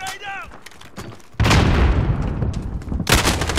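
Grenade blast in Call of Duty: Modern Warfare, a sudden loud boom that rumbles on and decays, followed by a sharp burst of gunfire near the end, after faint voices and chirps in the opening second.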